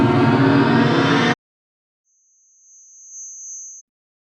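A dense trailer riser cuts off abruptly, then after a short silence a thin, high-pitched sustained tone swells in gradually, holds steadily and stops cleanly, standing alone against silence.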